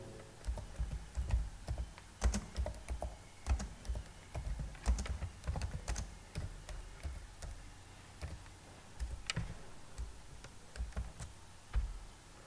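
Computer keyboard being typed on in irregular bursts of close, crisp key clicks with short pauses, no voices.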